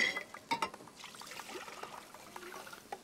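Water poured into a cooking pot to make a light syrup for poaching small pears in a kitchen, a close trickling splash with a few metallic clinks at the start, then a thinner dribble.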